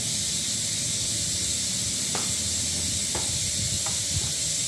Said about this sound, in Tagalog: medyo kumulo na, mga idol